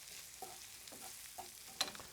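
Leftover chicken fried rice being moved around a pan, with faint sizzling and a few soft scraping strokes at intervals, quiet and close.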